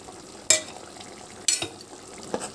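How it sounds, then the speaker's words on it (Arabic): Tomatoes with salt, black pepper, cumin, paprika, garlic powder and stock cube are stirred in a frying pan. Two sharp scrapes of the spoon land about a second apart over a soft, steady sizzle, close by. "هنقلب بقى كله كده مع بعضه"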